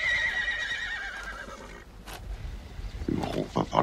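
A horse whinnies loudly and close, a long high wavering neigh in the first half, followed by snorts and scuffling noises, with no talk.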